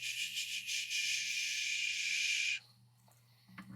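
Bird calls in the game The Witness, a dense, steady chirping chorus that runs loud for about two and a half seconds and then stops abruptly, leaving faint background tones.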